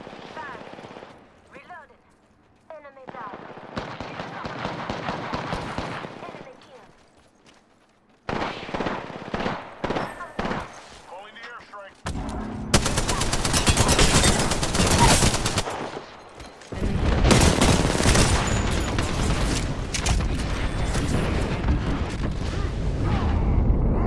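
Apex Legends gunfire: bursts of automatic weapon fire and shots crackle loudly through much of the scene, dense and sustained in the second half, mixed with game effects and some talk.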